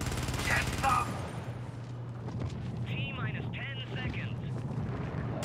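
Turret gunfire in the video game Helldivers sounds as a dense rattling burst early on, then fades beneath steady game noise and scattered effects, with someone talking over the action.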